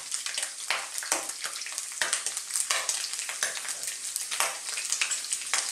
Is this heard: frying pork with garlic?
yes